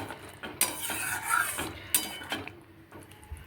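A utensil scrapes and stirs rohu fish curry in a pan, giving close, irregular scraping strokes and light clanks against the metal with a faint sizzle underneath.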